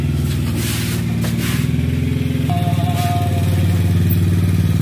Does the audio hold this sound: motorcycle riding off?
yes